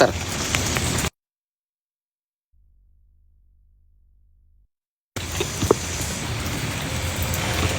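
Rain falls outdoors onto a phone screen, giving a broad, steady patter that cuts out into near silence for several seconds, then returns at similar loudness.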